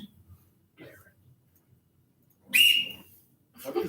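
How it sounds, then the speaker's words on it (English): A single loud whistle blast, a short bright tone that cuts in during a morning school announcement, with quiet voices and room sounds around it. "It's a whistle."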